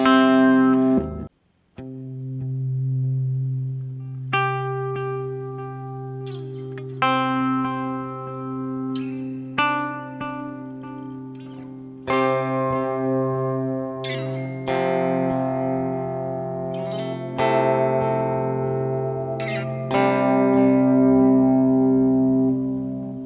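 An electric guitar played through a Meteoric Effects Gravity Well delay pedal set close to fully wet picks out a slow series of single notes and chords, each one ringing out with long, layered repeats that blend into a sustained wash.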